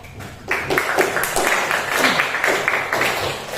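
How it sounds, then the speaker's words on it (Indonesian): Classroom applause for two students, Satya and Bimo, a dense patter of many hands clapping together, steady and fairly close, sustained for a few seconds without a break. "Tepuk tangan untuk Satya dan Bimo tadi."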